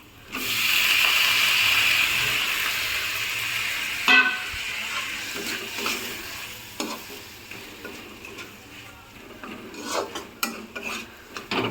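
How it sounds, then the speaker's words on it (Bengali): Tomatoes being mashed and stirred in a pan for pav bhaji: a steady sizzle at first, then scraping and tapping of the utensil against the pan in irregular strokes, close up, with no talk. "পুরোটাই একদম ভালো করে স্ম্যাশ করে নেব হচ্ছে এই যে টমেটো"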